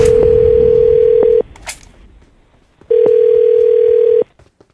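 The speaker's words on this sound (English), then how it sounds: "I'm going to dial her phone number right now, okay?" Telephone number being dialed: two long steady tones separated by a brief pause with small clicks, loud and close, with no voices.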